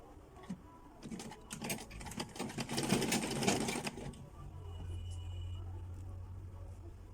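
A sewing machine stitches an invisible zipper with a right-hand needle, running in a busy, rapid burst for about three seconds, then settling into a lower steady hum.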